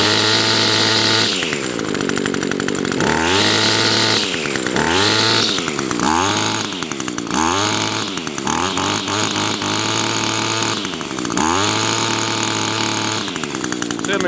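An Echo SRM 225 string trimmer engine revs hard in repeated bursts, snarling up to full throttle and dropping back toward idle between pulls, loud and close with no voices over it.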